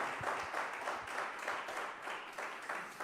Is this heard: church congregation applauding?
yes